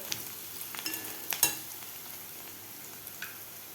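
Onion frying in a pan for potato bhaji, a quiet sizzle with a few light scrapes and taps of a stirring spoon, close but soft.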